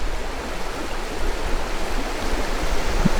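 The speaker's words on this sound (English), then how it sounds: "here we have a very low Cache River" A low Cache River flows at the confluence of two streams in a southern Illinois swamp, giving a steady, fairly loud rushing wash of water with no talking.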